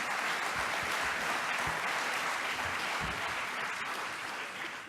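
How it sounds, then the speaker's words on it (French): A crowd at a French corporate conference on transformation applauds a speaker named Jean-Pierre, sustained full-room clapping at a steady level that eases slightly in the final moment. "Jean-Pierre, merci, on peut l'applaudir."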